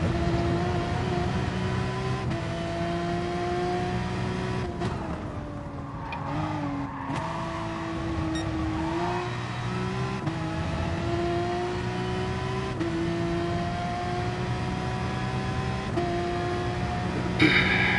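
Porsche race car in a racing simulator game at Brands Hatch, its engine droning steadily and loudly throughout with pitch rising through the gears, a brief dip and lift near the middle, alone with no voices.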